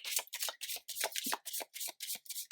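Tarot cards being shuffled by hand, a rapid series of about a dozen crisp riffling bursts in steady rhythm, close and fairly quiet with no talking.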